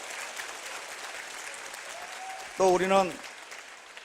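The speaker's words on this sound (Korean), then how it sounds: "우리 감사의 박수 한번." Audience applause of thanks fills a Korean lecture hall, steady and moderately loud, before a voice cuts in briefly near the end.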